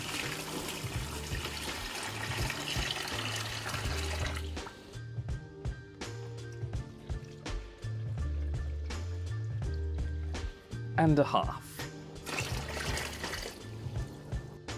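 Water poured from 2-litre jugs splashes into a saltwater aquarium, a steady trickling gush under steady background music, with a brief spoken phrase.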